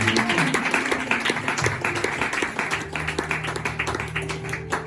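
A church congregation applauds and cheers for Jesus during a French-language service, a steady wash of clapping that lasts throughout beneath sustained keyboard music.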